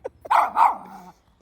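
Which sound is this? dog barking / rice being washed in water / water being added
dog barking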